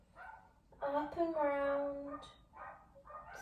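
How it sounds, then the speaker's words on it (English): Indoor dogs bark and yip in short bursts, one longer whining bark in the middle, moderately loud, with a soft voice talking quietly underneath. "Excuse the dogs"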